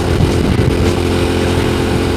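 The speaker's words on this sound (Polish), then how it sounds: "bo motorek spisuje się bardzo dobrze" A small motorcycle engine running while riding on a trip toward Niedzica in Poland, held around 5,000-6,000 rpm, gives a loud, close, continuous rumbling drone with steady low throb and wind buffeting, no speech.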